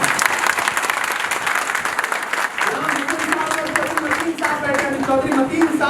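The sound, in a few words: audience applauding loudly at a ceremony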